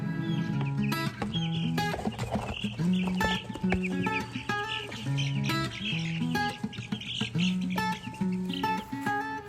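Four-week-old Cornish Cross broiler chickens out on grass, giving busy overlapping chirps, peeps and squawks in a steady, fairly loud flock chorus with no talking.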